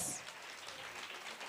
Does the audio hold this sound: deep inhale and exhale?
no